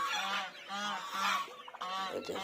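Chinese geese kept inside a large netted enclosure honk loudly and close by, a run of four or five harsh nasal calls in steady succession, with no talking.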